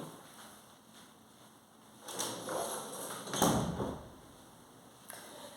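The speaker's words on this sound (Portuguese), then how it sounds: "deixa eu só fechar a porta aqui, porque tem um barulho aqui." An indoor door is pushed shut, a muffled thump and rattle landing after a short shuffle of movement, with a second softer knock following; quiet and nearby.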